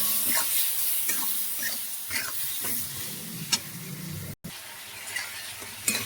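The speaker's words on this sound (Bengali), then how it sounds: "মশলাটা খুব ভালো করে কষে নিলাম" Masala paste of turmeric, cumin, chili and coriander powders is stir-fried in a pan, sizzling continuously under repeated scraping strokes of a spatula, close up with no speech.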